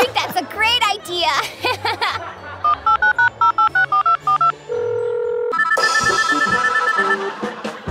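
A mobile phone rings in a steady repeating electronic pattern, loud and close. Children's voices talk before it and keep talking over it.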